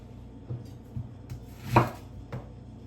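A knife cuts a red onion on a board, giving a few soft, spaced knocks and one sharper chop against a quiet background, with no speech.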